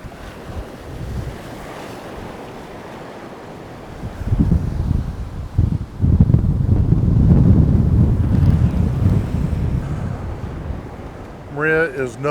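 Hurricane Idalia's surf roars onto South Beach, Marco Island, with steady wind buffeting the microphone; the rumble swells heavier midway, and a brief voice comes in near the end.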